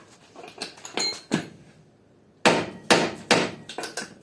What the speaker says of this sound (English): Put a bolt on top and then smack it with the hammer